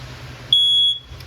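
A single high electronic beep from a smoke detector in the hallway of a 2023 Chaparral 336TSIK RV, clear and steady for about half a second against quiet room tone.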